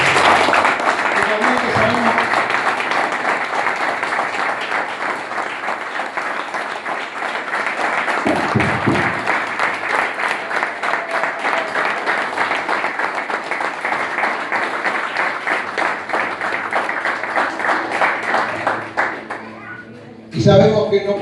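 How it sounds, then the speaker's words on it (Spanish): A crowd at a political assembly in Pilar claps in sustained, dense applause that runs steadily for about twenty seconds with occasional voices underneath before it stops abruptly. "Quisiera que le brindemos un gran aplauso."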